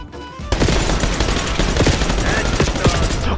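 Rapid automatic gunfire in Call of Duty Black Ops 6, a loud continuous burst of shots that starts abruptly after a brief quieter moment and hammers on densely with sharp cracks.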